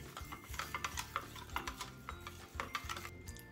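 A spoon repeatedly clinks and scrapes against a bowl while stirring flour and dry yeast to dissolve them, in quick close strokes at a fairly soft level with no voices.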